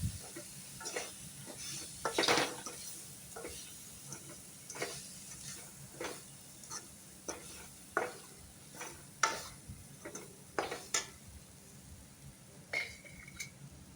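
Chilli and turmeric powders being stirred in a frying pan, with a low sizzle under a run of sharp, irregular spatula taps and scrapes, close by and fairly quiet.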